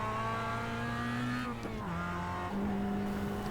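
A Mazda MX-5 race car in iRacing drones close by at steady revs, its engine pitch sliding down and back up through shifts or braking, loud and alone throughout.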